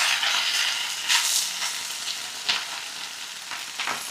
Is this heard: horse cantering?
no